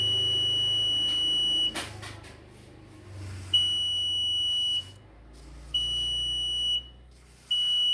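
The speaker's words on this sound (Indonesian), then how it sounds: "apabila ada yang menghalangi cahaya, maka alarmnya akan berbunyi" A homemade light-sensor alarm using an LDR and a laser beam from an LED sounds a shrill, steady electronic beep in several bursts of one to two seconds, separated by short pauses, alongside a low hum.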